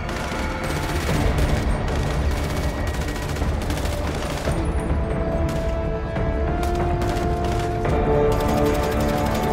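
Dense, sustained gunfire from a GTA 5 zombie survival match: rapid overlapping shots and bursts fill the whole stretch at a steady, loud level with no let-up.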